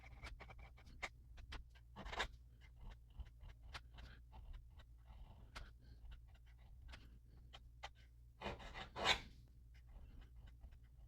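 A Good Blue R615 fountain pen with a flex nib scratches across paper in faint, quiet strokes, with soft taps and a couple of louder scratchy bursts in a hushed room.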